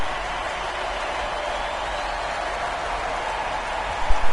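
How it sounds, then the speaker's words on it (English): Roaring basketball video game arena crowd, a steady dense wash of cheering and applause that swells briefly near the end. "Listen to this crowd."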